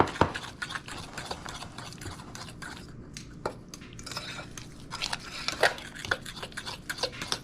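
No-bake cookie mixture being stirred by hand in a bowl, a steady scraping and stirring texture with scattered soft utensil knocks, close and continuous with no talking.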